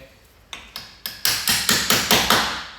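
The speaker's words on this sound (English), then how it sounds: "only having to tap it on because obviously it's covered up in dirt, grime, and there's a little bit of underseal" Socket being tapped onto a grimy, underseal-coated heel board bolt on a Classic Mini, a series of about nine sharp metallic knocks growing louder and more regular, close up.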